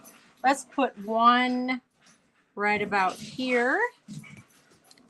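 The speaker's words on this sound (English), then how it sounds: "If you can hear the dogs in the background, they are just having a ball." Small dogs yip and whimper in short, high, playful bursts in the background while someone talks over them up close.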